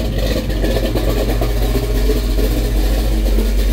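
A truck engine runs steadily at idle after its first start in two months, giving a continuous close low rumble with a faint rattle and no pauses.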